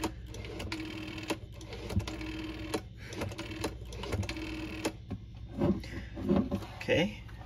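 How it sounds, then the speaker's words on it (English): A rotary phone dial whirs and clicks back repeatedly, a steady train of mechanical ticks close up, with some handling noise near the end. "Here's the sound of the dial. Let me spin it for you."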